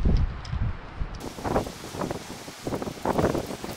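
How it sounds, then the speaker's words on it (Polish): Strong gusting wind outdoors beside a boat on a trailer, buffeting the microphone in loud irregular bursts of rumble and rustle that rise and fall every half second or so. "No podnosi łódkę na przyczepie, jest taki wiatr."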